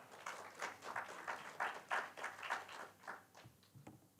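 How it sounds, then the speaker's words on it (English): An audience at a UN conference session on sustainable energy breaks into steady applause that swells and then thins out, with a few last claps trailing away. "Please give him a big round of applause."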